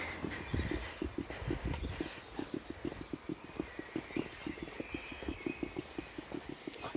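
Beagle named Lily out on a morning walk, sniffing and tracking with rapid, rhythmic snorts that sound pig-like, a steady run of short close huffs through the whole stretch with no talking.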